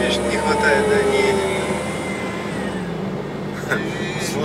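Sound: supercharged Nissan Juke engine whistle

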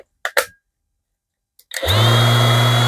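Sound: vibrating disc sander running

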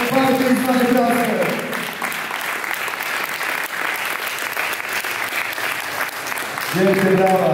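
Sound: audience applause at a competition awards ceremony

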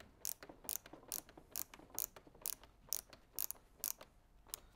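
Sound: screws being hand-tightened into parasol canopy arms

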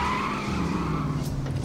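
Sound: tire screech from video game The Saboteur

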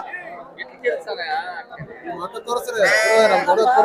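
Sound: sheep bleating at a sheep market

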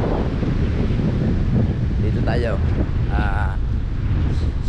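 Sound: wind

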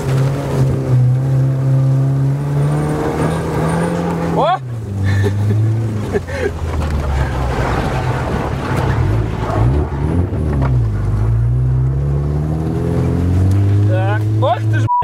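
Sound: engine revving as vehicle accelerates

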